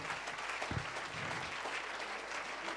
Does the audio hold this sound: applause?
yes